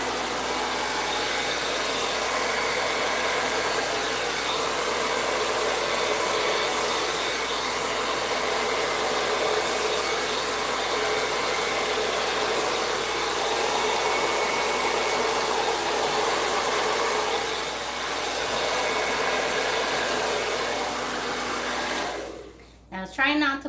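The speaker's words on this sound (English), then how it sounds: "So I'm going to use the hairdryer." A hair dryer on its cold setting blows on high with a steady, unbroken rushing roar for over twenty seconds before abruptly switching off.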